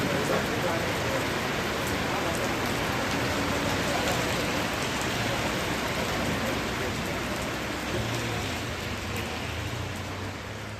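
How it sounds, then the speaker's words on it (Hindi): Heavy afternoon rain pours down steadily in a town, a dense continuous wash of drops that stays loud throughout with no pauses. "आज भी पानी बरसा और हर दिन की तरह दोपहर में ही गिरा।"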